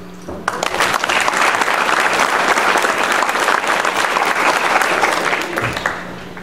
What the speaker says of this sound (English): One more round of applause for all 15 of our honorees here today